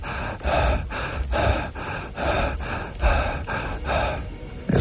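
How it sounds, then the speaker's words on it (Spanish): Circular breathing through mouth and nose, heard as close, rhythmic breaths: about half a dozen loud, airy inhale-and-exhale cycles in quick succession, with snort-like nasal pulses and no pauses between them. "Sería una respiración circular, o sea, sin parar."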